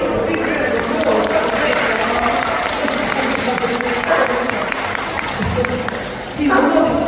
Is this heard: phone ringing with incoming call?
no